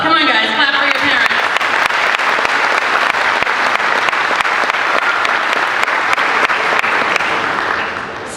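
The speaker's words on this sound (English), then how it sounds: "another round of applause. Come on, guys, clap for your parents" A graduation ceremony audience applauds the parents with loud, sustained clapping that fills about eight seconds before it starts to thin at the end. There is a brief bit of voice near the start.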